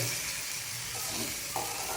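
Puffed rice soaked in turmeric water, tempered in a pan, gives a steady soft sizzle and hiss close by, with a brief stirring scrape near the end and no voice over it.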